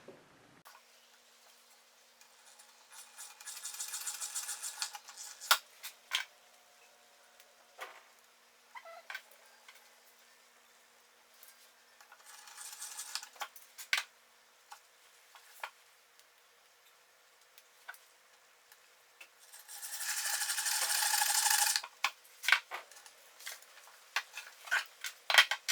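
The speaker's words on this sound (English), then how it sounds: "So I'm going to drill the hole for the wooden dowels." A small hand drill bores dowel holes into a violin, giving several bursts of high whirring separated by quiet gaps and small ticks and taps, with the longest and loudest burst near the end.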